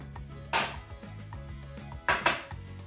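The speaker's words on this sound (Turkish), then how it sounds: "Bunları da kendi içerisinde karıştırıyorum" A spoon clinks and scrapes against a bowl while cocoa, instant coffee (Nescafe) and powdered sugar are stirred together, with two sharper knocks standing out over a low kitchen hum.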